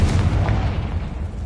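Confringo fire spell explosion in Hogwarts Legacy, a single loud booming blast with a rumbling low tail, close and alone.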